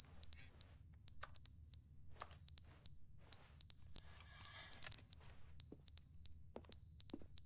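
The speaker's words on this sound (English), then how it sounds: "Where's the beeping coming from?" Smoke detector alarm in a house beeping in repeated rapid bursts of short high-pitched chirps, with brief gaps between groups, moderately loud against a quiet background with faint knocks.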